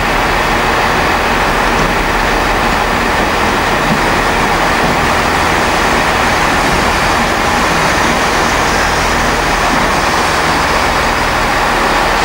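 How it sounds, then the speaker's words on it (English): Steady broadband rumble of a diesel train engine idling at a railway station platform in the rain, constant and fairly loud, mixed with rain hiss and no speech. "Some of the engine noise as well"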